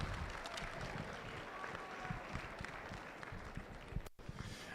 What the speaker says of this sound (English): I'm going to say give them a huge round of applause